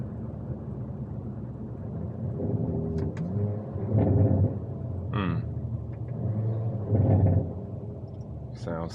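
A Hyundai Kona N drives along with its engine rumbling inside the cabin, swelling through revs and dropping off, with sharp exhaust pops and crackles breaking through a few times; speech is heard briefly.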